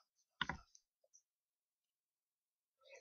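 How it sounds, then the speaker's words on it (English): Mouse clicks during a Pokemon Planet game session: one sharp, loud burst of clicking near the start, then a couple of faint ticks and a soft click at the end, with quiet gaps between. "I can just hear the clicking in the background, like click, click."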